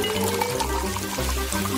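Sprite soda is poured into a glass as part of a strawberry-syrup drink, producing a steady, close gurgling splash that runs continuously for nearly two seconds.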